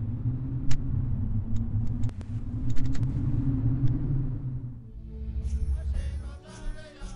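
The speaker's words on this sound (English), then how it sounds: "let's go over here and try another storm" A storm miracle in the video game Black & White rolls in as a steady low rumble with scattered sharp ticks like raindrops, then gives way to a tonal, musical texture in the last couple of seconds.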